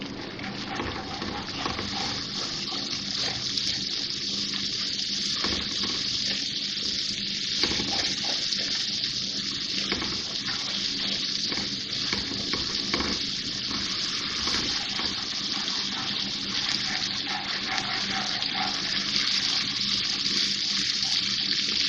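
Spices fry in a pot with a little added water for chole, giving a dense, steady sizzling hiss that fills the whole stretch with scattered crackles and no talk.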